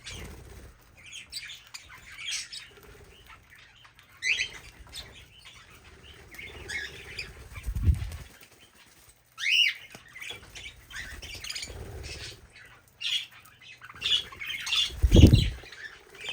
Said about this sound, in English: Now we're in the small parrot aviary, so feeding all the little budgies and cockatiels.